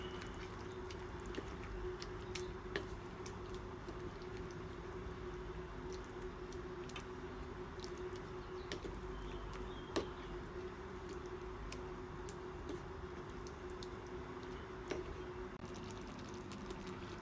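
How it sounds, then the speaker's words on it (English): Shakshuka with cumin is stirred in a pan, soft quiet squishing and light ticking of a utensil against the pan over a low, steady sizzle. "And now we are going to stir a little bit."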